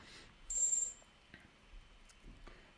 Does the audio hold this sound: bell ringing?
yes